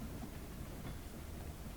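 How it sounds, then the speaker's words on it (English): Faint, steady low rumble of a train rolling along in the video game Haunted, a continuous rolling drone with no speech. "I hate trains."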